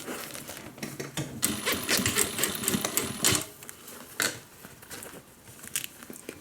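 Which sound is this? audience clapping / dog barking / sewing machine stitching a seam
sewing machine stitching a seam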